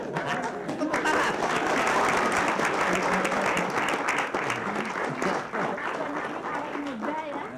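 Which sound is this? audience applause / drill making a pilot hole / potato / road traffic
audience applause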